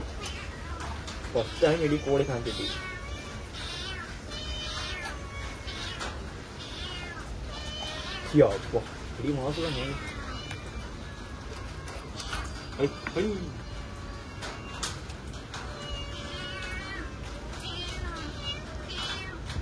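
A cat meows several times in short, plaintive cries amid close conversation, with people talking throughout and kitchen clatter in the background.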